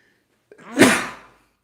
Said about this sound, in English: I feel like I might have to sneeze.